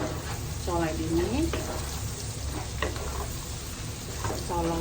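Chow mein frying and being stirred in a pan, a steady sizzle running throughout under intermittent spoken narration with scraping stir strokes.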